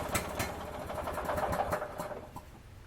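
A Craftsman lawn tractor's small engine, running after its ignition switch was replaced, chugs close by at an even, rapid idle with a rough mechanical patter.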